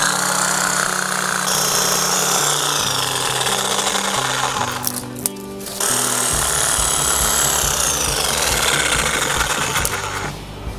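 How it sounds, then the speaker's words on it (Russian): An electric saw cuts through thick rose bush branches, running loud and continuous with a dense whine that dips briefly in the middle before resuming at full strength. "берете ножовочку, пилу, ну, у нас электрическая"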